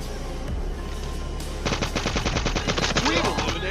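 Rapid automatic gunfire in the Call of Duty Mobile battle royale mode breaks out after a short quieter stretch, its loud, dense bursts continuing to the end.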